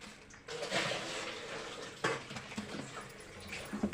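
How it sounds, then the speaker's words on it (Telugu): Water pours and trickles into chapati flour with salt in a kitchen mixing bowl. The splashing is soft and fairly faint, with a few louder splashes along the way. "కొంచెం కొంచెం వాటర్ పోసుకోండి"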